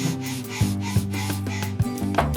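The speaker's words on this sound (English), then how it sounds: "Almost done sanding this piece." Steady abrasive rubbing of sanding against wood, with rhythmic strokes and a low motor hum underneath, close by.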